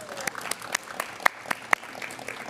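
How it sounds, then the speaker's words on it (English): Scattered applause at a university law review symposium, a few distinct claps standing out over a soft crowd bed, fairly quiet and brief. "I think it's okay if we applaud."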